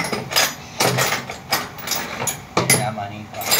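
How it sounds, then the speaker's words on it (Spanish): A ratchet wrench clicks in short bursts while loosening the nuts of an engine's intake manifold and carburetor, with repeated close, sharp ratcheting strokes separated by brief pauses. "Vamos aflojando algunas tuerquitas cabeza media."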